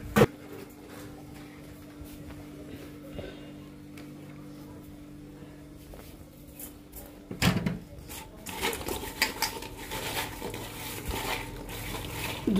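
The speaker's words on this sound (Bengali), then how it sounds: "কাঁকড়াগুলো একটু ধুয়ে নেব নুন দিয়ে।" Raw crabs being rinsed and rubbed with salt in a kitchen: quiet handling and light clatter at first, then denser splashing and scrubbing noises toward the end.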